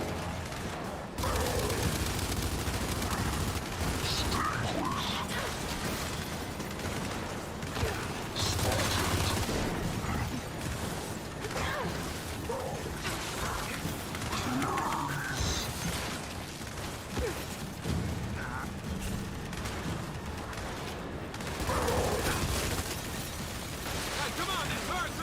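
Enemy turrets fire in a video game battle: a dense, continuous mechanical clatter of rapid shots and bursts runs throughout, with occasional louder blasts and voices talking over the barrage.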